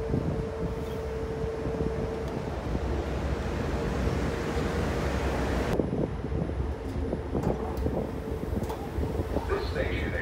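A Metro-North train pulls into a station platform at New Haven, a steady loud rumble with wind-like rushing and a sudden shift midway as the cars pass close by, with faint voices nearby.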